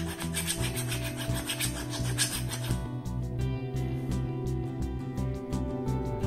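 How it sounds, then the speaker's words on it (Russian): A metal file rasps back and forth over the plated coating of a brass plug pin, a steady scraping rub at close range with regular strokes and no talk. "можно взять обычный напильник и немного потереть вот это напыление"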